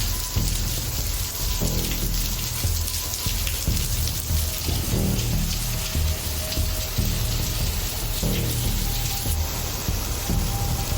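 Steady rain from Hurricane Erin in the Dominican Republic falling on a surface, a dense continuous patter with occasional heavier drops, no wind, fairly close and with no voices.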